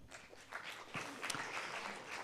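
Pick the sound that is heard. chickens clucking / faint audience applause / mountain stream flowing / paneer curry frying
faint audience applause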